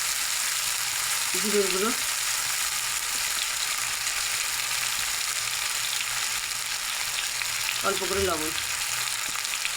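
Spices with tomato and turmeric sauté in a pan for fish jhaal, a steady loud sizzle running throughout, while someone speaks briefly twice over it.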